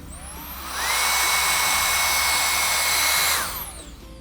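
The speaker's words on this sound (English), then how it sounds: "I'm gonna take a nice thin section, blow dry down some dimension." A handheld hair dryer blows on hair during a blonde styling session in a salon, switching up to a steady loud whoosh with a rising motor whine for about two and a half seconds, then dropping back to a lower hum.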